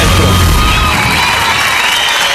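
A live Factor X Chile studio audience cheers and applauds a contestant, a loud dense roar of shouts, whoops and clapping that fills the room without pause over the whole brief stretch.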